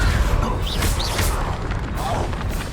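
Confringo blasting spell exploding in the Hogwarts Legacy video game, heard as a loud, dense burst of crashing impact noise amid a busy spell-casting battle, with sustained rumble and whooshing effects throughout.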